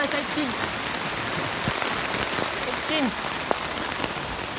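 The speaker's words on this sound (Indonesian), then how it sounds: "jalan hujan guys" Steady rain falls on a hiking trail during a fishing trip, a dense, even patter of drops close by with faint voices and a few brief chirps mixed in.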